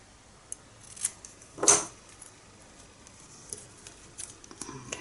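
Scissors snip the excess off the end of a paper strip while a stationery box is being made. One crisp, close cut stands out among faint rustles and taps.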